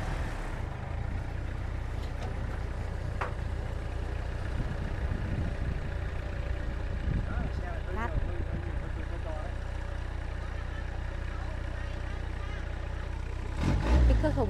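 A modified Vietnamese diesel three-wheeler with two driven axles and nine tyres hauls a loaded bed. Its engine idles and chugs steadily, rising briefly near the end, while someone talks over it.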